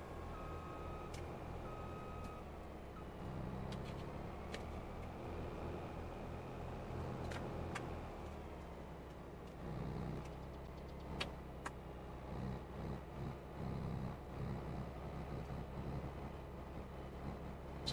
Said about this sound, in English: Sounds like the truck's having trouble idling.